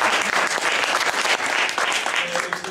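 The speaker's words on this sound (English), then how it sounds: "So a big round of applause for them." An indoor audience at an evening gala claps loudly and continuously, a dense, steady wash of applause with a few faint voices mixed in.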